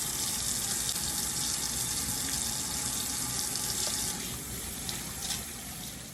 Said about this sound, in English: So we're gonna start off by washing our hands.